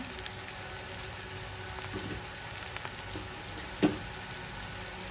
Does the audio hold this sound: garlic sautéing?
yes